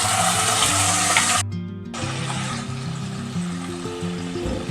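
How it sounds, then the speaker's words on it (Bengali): Chili paste frying in a pan for a spicy hilsa fish curry, a steady close sizzle with a brief dropout partway, and no talking. "লঙ্কা বাটাটা দিয়ে ভালো করে ভেজে নেব।"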